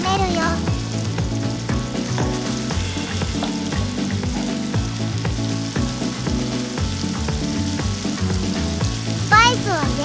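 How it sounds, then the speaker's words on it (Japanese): Onion, garlic, ginger and mixed vegetables fry for a samosa filling, a loud, steady sizzle running continuously with occasional stirring scrapes, close up and without talk. "玉ねぎ、にんにく、生姜、ミックスベジタブルを炒めるよ。"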